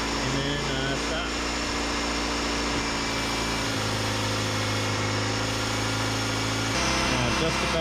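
A Ford Fusion engine idles with a steady low drone and a constant hum, close and unchanging, as a can of engine cleaner is sprayed into it, with some voices faintly present.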